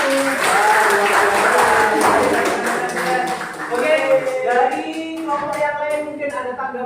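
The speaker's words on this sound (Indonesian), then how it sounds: "Tepuk tangan dong untuk kelompok" Classroom applause for a presenting student group during a practice-teaching lesson on faith in God's messengers; clapping fills the first half, then fades as a teacher's voice and chatter take over.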